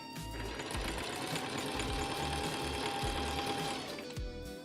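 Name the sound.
sewing machine sewing in an elastic zipper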